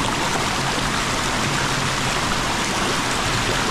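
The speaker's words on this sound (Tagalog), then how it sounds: "Oh, ang lakas, baka madala tayo." A canal with strong, fast-flowing water gives a loud, continuous rushing roar, close and unbroken throughout with no voices.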